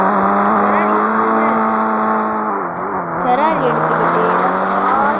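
A Ferrari supercar engine in an Indian bike driving video game drones steadily with a sustained tone that dips and swells, under continuous close talk.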